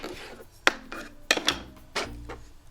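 Knife cutting through a block of softened butter for cookie dough, a few separate soft scraping and tapping strokes, close and fairly quiet, with no voices.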